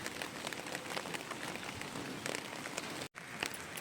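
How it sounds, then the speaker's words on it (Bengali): Dense rainfall hisses steadily on a rooftop with pattering drops, cutting out for a moment near the end before resuming. "এতটাই বৃষ্টি হচ্ছে"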